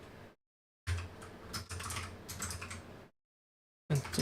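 Bursts of rapid typing on a computer keyboard are separated by short silent gaps. The clicks are close and fairly soft, with no talking.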